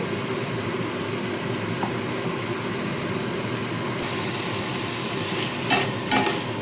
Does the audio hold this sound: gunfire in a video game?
no